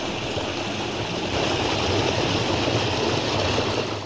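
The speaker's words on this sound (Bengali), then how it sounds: "এই যে দেখছেন পাহাড়ের গা ঘেঁষে পটহোলস দিয়ে প্রচুর পরিমাণে জল বেরোচ্ছে" Water gushing from potholes along a hillside at Dainthlen Falls in Meghalaya, a loud, steady rushing roar that swells slightly midway and holds without pause.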